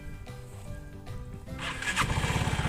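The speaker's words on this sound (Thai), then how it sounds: "สตาร์ทเครื่องก็จะเป็นเสียงประมาณนี้" A Vespa GTS150 scooter engine cranks and catches close by, then settles into a loud, steady idle with a rapid low throbbing pulse.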